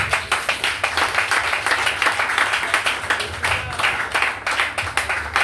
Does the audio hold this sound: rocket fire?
no